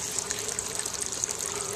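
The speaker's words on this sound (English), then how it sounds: "you can see the flow of water" Water flowing continuously in an aquaponics system with fish tanks, a steady close trickle and gush with no voices.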